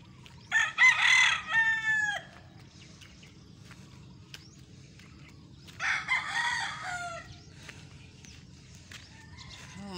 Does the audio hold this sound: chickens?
yes